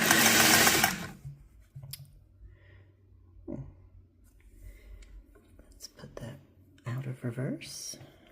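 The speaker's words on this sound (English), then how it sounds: "I've got the machine plugged in, and we'll do our test sew." A Singer 401A Slant-o-Matic sewing machine runs a test stitch in a short opening burst, followed by quieter handling sounds and a few later bursts of motor whir.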